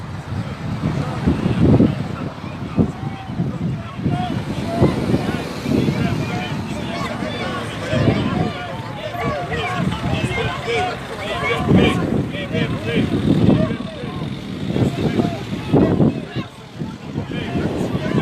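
Steady, loud wind buffets the microphone in rumbling gusts throughout, with a faint voice or two occasionally breaking through underneath, at an outdoor rally against the health pass in Lanester, France.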